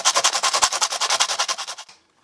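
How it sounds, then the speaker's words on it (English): Sandpaper rubs quickly back and forth over the plastic shell of a Nerf Hammershot blaster, about twenty close, steady strokes in a fast rhythm that stop abruptly near the end, leaving quiet. "So already, that's like a minute of sanding"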